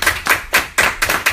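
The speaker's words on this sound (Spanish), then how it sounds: "¿por qué no le un fuerte aplauso al Señor en esta hora?" Congregation clapping at a Spanish-language church service, loud, close claps in a rhythmic pattern, roughly a few strong beats per second, with no talk over them.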